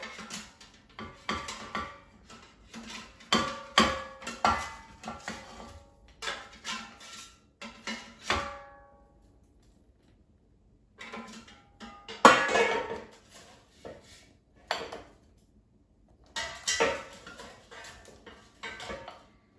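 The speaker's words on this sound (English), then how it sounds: "And now let's take them out of the air fryer." Cauliflower gnocchi being lifted out of an air fryer basket, with bursts of metallic clinks, scrapes and knocks separated by short quiet gaps.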